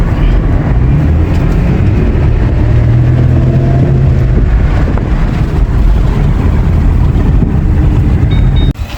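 A Ford Mustang driving with engine noise heard from inside, a loud continuous rumble and roar under heavy wind and road noise throughout, without distinct gear-change breaks.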